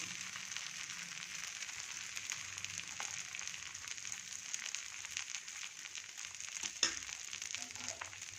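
Dosa batter sizzles on an oiled tava as a steady, faint hiss of frying that runs throughout, with a single small knock near the end.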